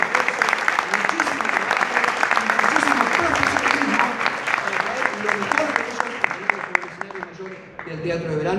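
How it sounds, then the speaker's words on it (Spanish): A theatre audience at the Premios Romeo Gavioli 2019 awards ceremony applauds the jury, dense, steady clapping with voices mixed into the crowd noise throughout. "El aplauso para ellos tres."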